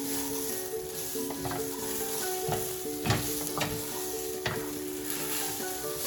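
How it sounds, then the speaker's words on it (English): Yellow lentils (dal) roast in a pan with a soft, steady sizzle while a utensil scrapes and stirs through them in repeated sharp strokes, close and fairly quiet. "You have to roast it more."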